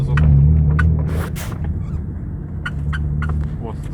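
A BMW E34 gives off repeated short creaks from its interior while driving on a level road, heard as sharp intermittent squeaks over steady engine and road rumble.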